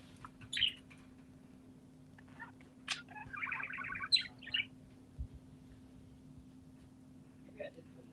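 Small birds chirp in a few brief, faint bursts, mostly in the first half, over a steady low hum and the murmur of a live Halloween show.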